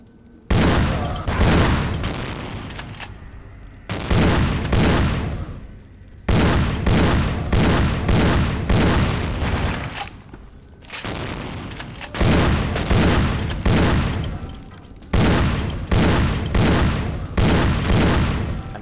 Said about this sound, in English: I'm sorry the gunshots are so loud.